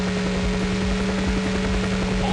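A helicopter in the racing game Screamer 2 gives a steady, loud mechanical drone with a fast rotor chop, mixed with a constant engine hum and no talk.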